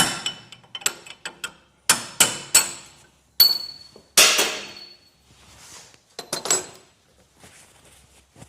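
Hammer blows on a chisel knocking a bearing out of a Land Cruiser 80 Series steering knuckle, a series of sharp metallic strikes in irregular bursts with ringing decays and short pauses between, close and loud.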